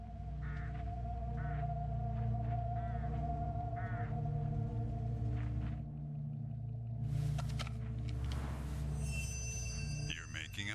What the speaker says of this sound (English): Get enough of these crows together and it's big trouble.